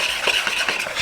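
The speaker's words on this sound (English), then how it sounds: "just give that a whisk" Dry ingredients with Jamaican curry powder being whisked in a bowl for beef patty dough, a quick run of light rhythmic scratchy strokes, close and fairly loud.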